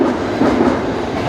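A Shinkansen bullet train leaving Tokyo rides the rails with a loud, steady, close rumble and a faint rhythmic clack, with no voices.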